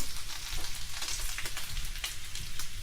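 Breakfast burrito filling sizzles and crackles in a frying pan, a steady close-up hiss with dense popping throughout and no talking.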